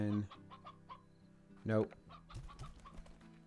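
Hens and roosters clucking in a video game, a run of short clucks and a louder squawk near the middle, with a man's brief spoken word over them.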